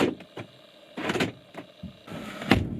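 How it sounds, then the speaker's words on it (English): Lock and unlock sounds from a first-generation BMW Mini (R50/R52/R53) operated by key: several short clicks and clunks, with a few louder mechanical thunks spread across a couple of seconds, close by with no talking. "as you heard, the car locked and unlocked"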